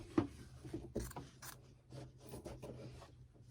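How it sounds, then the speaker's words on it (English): Scissors snipping through the top fabric layer of a quilted daffodil coaster, leaving the batting below uncut: several quiet, close, crisp cuts with soft rustling of the fabric in between. "I just want to cut this top layer"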